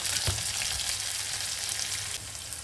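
Ginger, garlic and onion sizzle in hot oil in a pan while a chicken fry is cooked, giving a steady, close, even frying hiss throughout with no talking.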